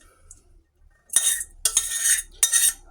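A utensil scrapes and clinks against a dish in three quick bursts as red onion and shredded cheese are stirred together, close and crisp, with no talking.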